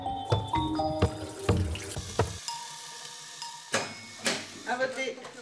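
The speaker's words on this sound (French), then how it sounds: "en ouvrant ce robinet, un geste quotidien" A kitchen tap in Greater Lyon is opened and water runs into a sink, splashing in short bursts alongside other tonal sounds.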